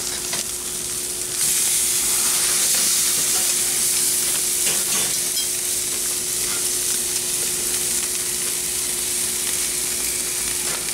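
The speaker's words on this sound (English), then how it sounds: "I'm gonna just like sear these for a couple minutes on each side" Beer cheese brat burgers sear in a hot pan, a loud, steady hiss of sizzling fat that swells after the first second and holds for about ten seconds, with a faint steady hum beneath and a few clinks.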